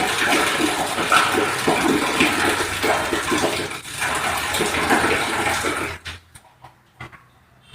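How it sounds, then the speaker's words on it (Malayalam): Chlorinated water is poured slowly into a well, a loud continuous rushing splash for about six seconds that then cuts off, leaving faint sporadic drips and trickles. "സാവകാശം നമ്മൾ ഇത് കിണറ്റിലേക്ക് ഒഴിച്ചു കൊടുക്കണം."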